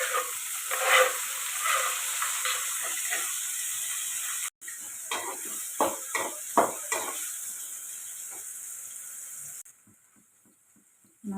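Onion, tomato and coriander fry together in a pan, a steady hissing sizzle broken by irregular spatula scrapes and knocks, then dropping away to near quiet with a few faint clicks near the end.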